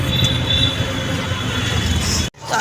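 A train runs at Sealdah station with a loud, steady rumble and a faint wheel squeal, then cuts off abruptly near the end.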